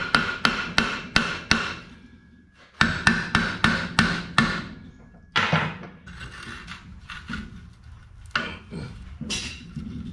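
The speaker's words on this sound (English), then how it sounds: "Alright, pipe wrench. Give this a bit of a tap." Pipe wrench tapping on a stuck metal part of a 620 vehicle, bursts of sharp ringing metallic knocks in quick runs of several blows, loud and close, with pauses between runs and lighter taps toward the end.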